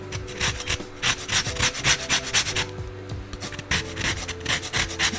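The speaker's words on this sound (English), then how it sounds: "We're gonna zest some of this lemon up." A lemon is zested on a grater, producing a close, rhythmic series of rasping scrapes, steady back-and-forth strokes throughout with no speech.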